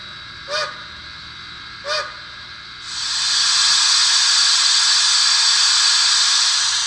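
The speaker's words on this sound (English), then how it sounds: "Steam let off is a little loud." Two short honking toots, then a loud, steady rush of hissing steam let-off from a model steam locomotive sound decoder that builds and continues to the end.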